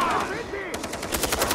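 A rapid burst of unsuppressed gunfire from Far Cry 3 rattles in quick repeated shots, loud and close, overlapping a voice in the background.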